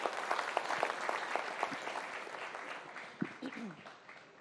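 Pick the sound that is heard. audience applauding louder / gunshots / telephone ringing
audience applauding louder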